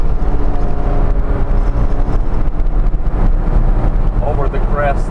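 A supercharged 1991 Subaru Sambar Dias II AWD kei van engine revs hard at around 5,000 RPM while moving slowly, a steady loud drone with road and wind noise and a rising whine near the end.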